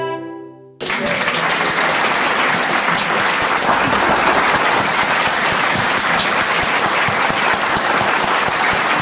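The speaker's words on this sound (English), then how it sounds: "Let's have some more applause, please, for John and Carol." Audience applause breaks out after a folk song at a folk club, a sudden, dense wall of clapping that stays loud and steady for several seconds with no voices over it.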